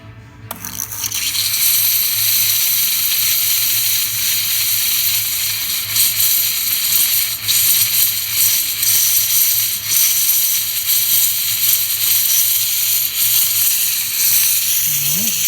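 A DeLonghi Prima Donna S Deluxe espresso machine's steam wand hisses loudly and steadily after a brief start, a close, continuous high-pitched steam rush with faint mechanical clicks.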